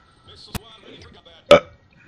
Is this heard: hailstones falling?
no